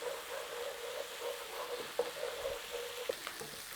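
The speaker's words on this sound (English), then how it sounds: "We've got a little bit of browning going on there as well." Lamb pieces browning in a pot for a nihari stew, giving a steady low sizzle and crackle with a few sharper pops throughout, fairly quiet and close.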